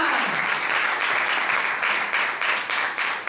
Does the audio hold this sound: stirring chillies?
no